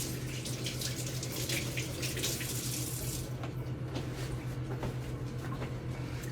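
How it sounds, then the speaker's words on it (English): A kitchen sink tap runs steadily as hands are rinsed under it mid-cooking, a constant close splashing hiss with a low hum beneath and no talk. "Let me rinse my hands off again."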